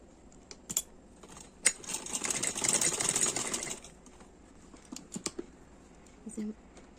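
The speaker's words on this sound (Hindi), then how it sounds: "ये दोनों का बैलेंस बनाकर यहाँ से सिलाई लगाएंगे" Electric sewing machine stitching a girl's side-plate frock, running in one steady burst of about two seconds with a few short clicks and taps before and after; no talk.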